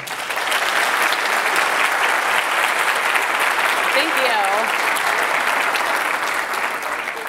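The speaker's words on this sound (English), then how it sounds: "eu peço para vocês uma salva de palmas para a Kellee Santiago." Sustained applause from a conference audience welcoming a keynote speaker at a game industry event, a dense steady clapping texture lasting throughout, with a brief faint vocal sound partway through.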